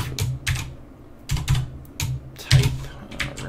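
Fingers typing on a computer keyboard in short bursts of clicky keystrokes separated by brief pauses, close and clear, with no talking.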